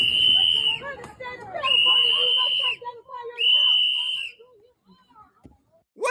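Sharp, shrill whistle blasts, three long blows in a row, with crowd chatter and voices underneath and between them.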